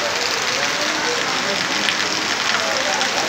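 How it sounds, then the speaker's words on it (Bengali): Heavy downpour at a market in Titas upazila, with idle auto-rickshaws waiting for passengers; a dense, steady hiss of rain fills the whole stretch without a break, close and loud. "দেখুন একেবারে মুষলধারে বৃষ্টি হচ্ছে"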